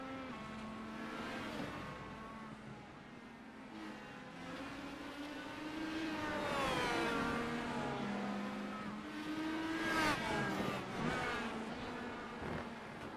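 An IndyCar racing on the Charlotte Roval in the iRacing simulator screams through gear changes, its high engine pitch rising and falling repeatedly with upshifts and braking, loud and continuous from onboard.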